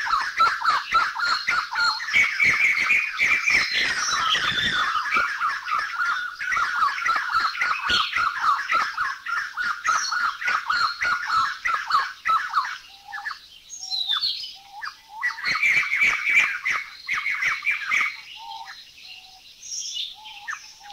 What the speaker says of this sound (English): Number 55, the white-crested laughing thrush.